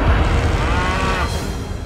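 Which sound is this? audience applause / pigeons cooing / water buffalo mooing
water buffalo mooing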